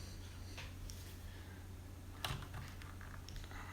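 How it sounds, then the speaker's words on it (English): Keycaps are pried off a Cherry MX mechanical keyboard, giving a few quiet, sparse plastic clicks and snaps over a faint low hum. "let's pull these keys off."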